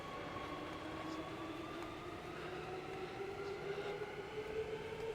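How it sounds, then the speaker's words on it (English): A train passing Redcliffe Station in Perth, Western Australia rumbles steadily through the whole stretch, with a low drone and faint squealing tones riding over it, fairly close and continuous. "We can hear the train."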